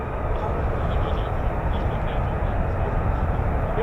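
An F-35B stealth fighter jet engine starting up, a loud steady broadband roar and rumble that holds constant throughout, close by.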